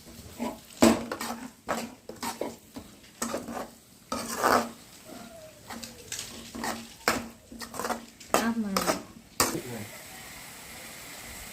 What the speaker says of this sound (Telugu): సాల్ట్ వేసుకొని కలుపుకుందాం బాగా అంతా